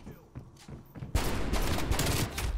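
Gunfire in the video game Black Ops Cold War from dual-wielded snakeshot Magnum pistols, a heavy dense blast of shots after a second of faint game noise, loud and sustained to the end.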